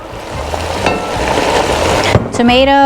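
Tomato and basil frying in a hot pan give off a steady, close sizzle that runs throughout, with a sharp clink near the end; a voice talks over it.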